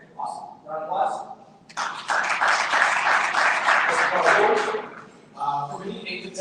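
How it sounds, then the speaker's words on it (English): An audience at a speaker series event breaks into a round of applause lasting several seconds, loud and sustained, with brief speech before it and more talk as the clapping fades. "Round of applause."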